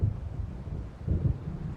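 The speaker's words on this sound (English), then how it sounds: "It seems there's a storm coming." Thunder from an approaching storm in Alan Wake Remastered rolls as low, muffled rumbles, with a heavier swell about halfway through, alone with no voices.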